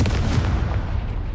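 Fiery Confringo blast spell cast in Hogwarts Legacy, a booming explosive burst with a dense low rumble that carries steadily through the short moment, loud and close with no talking.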